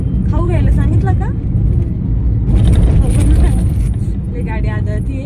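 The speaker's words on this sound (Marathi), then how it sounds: "गाडी आदळतीये." Car bumping and jolting along a rough, potholed road damaged before the rains, with a steady loud rumble of engine and road noise, some rattling and clatter, and people talking inside the vehicle.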